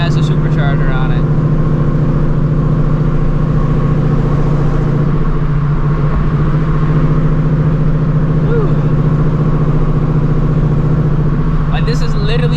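A supercharged car with no hood runs on the highway, its engine droning loudly and steadily throughout with strong low rumble and constant road noise.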